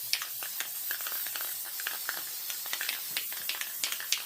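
A can of aqua spray paint sputters and spits as it sprays over a poured painting, a soft hiss broken by irregular crackly pops, faint and close, with no talking.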